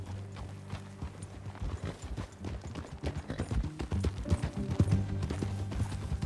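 Horse hooves clip-clop steadily at a trot, close and clear, over a low rumbling background with no talking, in the video game Red Dead Redemption 2.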